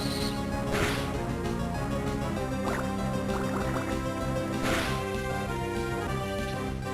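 Water Gun attack sound effect from the video game Pokémon Emerald, a sustained gushing, bubbling blast of synthesized water with dripping splashes, loud and continuous over background game music.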